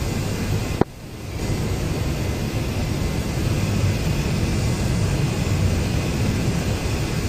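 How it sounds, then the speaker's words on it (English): A fighter jet's afterburner roars in the DCS World combat flight simulator, a sharp click followed by a brief dip and then a steady, dense broadband rush that holds loud and unbroken, with no talk. "Stage 1 afterburner,"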